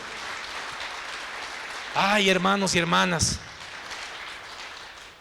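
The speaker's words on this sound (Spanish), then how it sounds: "Denle un aplauso a Él." Church congregation applause, a steady wash of clapping throughout while a preacher briefly speaks over it in Spanish.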